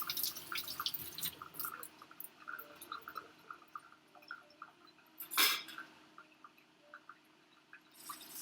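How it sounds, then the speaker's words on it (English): Hands being washed under running kitchen tap water, with soft dripping and splashing plus a few light clinks, quiet and close with one louder splash partway through, and no talk. "Let me wash my hands."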